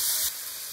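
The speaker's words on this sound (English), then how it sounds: "Pour a little of the warishita sauce over the meat." Warishita sauce hits meat in a hot pan for sukiyaki, giving a short, steady, close hiss and sizzle that eases slightly partway through.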